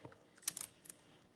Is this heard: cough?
no